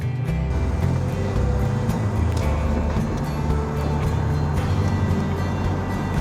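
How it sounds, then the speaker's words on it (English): A BMW Z4 E85 with a 2.5-liter inline-six of about 188 horsepower cruises at 55 mph near 3,000 rpm, giving a steady, loud engine drone and road rumble inside the cabin without talking. "Down this road we're cruising at 55 miles an hour."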